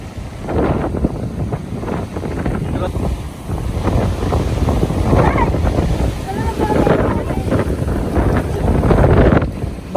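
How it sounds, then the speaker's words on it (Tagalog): Strong wind and breaking sea waves on a beach at Boracay, a steady roaring wash with heavy wind buffeting on the microphone throughout, loud and close. "Mahangin dito, hindi ko alam kung naririnig nyo ako."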